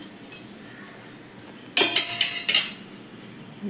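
Soaked sabudana and crushed potato being mixed in a bowl, mostly quiet and then a burst of metallic clinks and scrapes as a spoon works against the vessel, close, with no speech.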